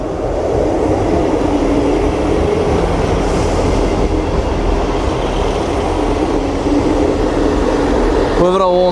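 A British Rail Class 158 diesel multiple unit rumbles past at close range at Chesterfield station, a steady heavy drone of engine and wheels, with a brief squeal of wheels near the end.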